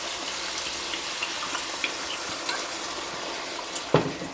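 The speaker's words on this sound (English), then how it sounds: "we're going to go ahead and add in about 2 cups of wine" Red wine, about two cups, pouring into a hot pan of browned beef short ribs to deglaze it, giving a steady liquid rush and sizzle with a brief clatter near the end.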